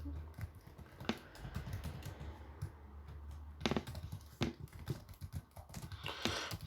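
Quick, irregular clicks of typing on a computer keyboard while entering data into an Excel spreadsheet, close and moderately loud, with a few sharper keystrokes standing out over a quiet room background.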